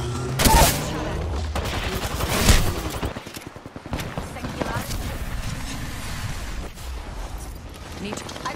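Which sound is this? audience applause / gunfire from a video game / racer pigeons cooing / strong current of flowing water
gunfire from a video game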